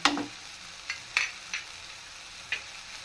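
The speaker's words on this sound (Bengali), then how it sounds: "দিয়ে আরও কিছুটা সময় খুব ভালোভাবে ভেজে নিতে হবে" Onions and chopped green chillies frying in a pan, a soft background sizzle punctuated by a handful of sharp, brief scraping stirs spaced irregularly, close but fairly quiet.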